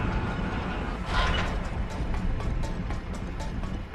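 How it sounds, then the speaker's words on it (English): An elevator in the dark fantasy video game Morbid grinds and creaks steadily as it carries the player up, a continuous mechanical rumble with rhythmic ratcheting clicks, close and moderately loud, no talking. "Then from here we can simply just ride the elevator up."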